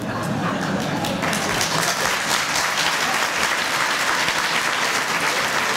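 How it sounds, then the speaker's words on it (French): Vigorous applause from an audience at a bailiffs' conference in France, steady dense clapping throughout, loud and close. "les applaudissements les plus vigoureux sont des applaudissements masculins"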